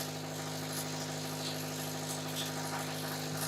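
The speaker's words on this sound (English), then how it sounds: "a higher frequency will start to build heat" An 18-inch Audiopipe BDC subwoofer playing a high test frequency, giving a steady, unbroken buzzing drone that holds constant at moderate level throughout.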